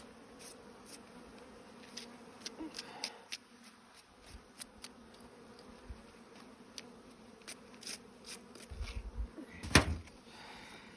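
A steady low insect hum of many honey bees around a hive, fairly quiet, with scattered ticks and clicks and a sharper rustle near the end.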